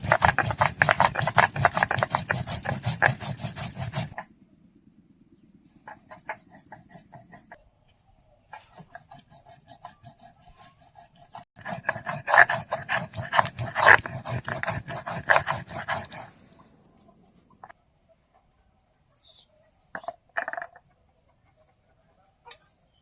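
Cumin is ground by hand on a stone slab shil in a home kitchen, giving rhythmic scraping strokes in two long bursts, with quieter gaps and a few short strokes near the end.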